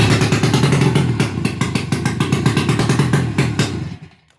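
Loud 800cc two-stroke engine on a stretched tractor revving hard, a dense raspy buzz with rapid clattering pulses, held up close before cutting off abruptly near the end.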